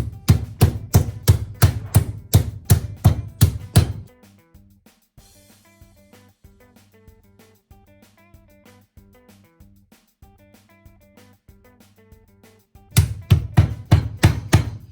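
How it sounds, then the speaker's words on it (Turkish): Rapid, regular heavy thuds of chicken breast being pounded flat, in two bursts at the start and end with quiet music in between. "Evet, tavuklarımı dövdüm."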